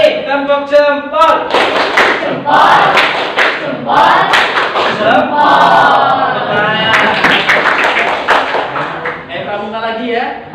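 A school class performs a chanted clapping routine, children's voices calling out in rhythm while sharp claps and taps land in patterned bursts, loud and close throughout.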